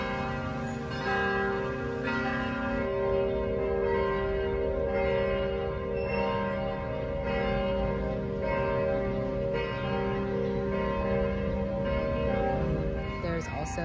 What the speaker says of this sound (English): the church bells ringing.